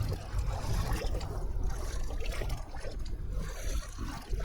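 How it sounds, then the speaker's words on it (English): In the video game The Last of Us, water laps and sloshes gently against a hard edge under a low, continuous rumble of wind and ambience. "I have water lapping and birds in the background"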